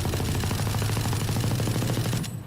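Automatic weapon fire in Valorant shooting without recoil control, a steady rapid stream of shots lasting about two seconds, loud and continuous before cutting off abruptly.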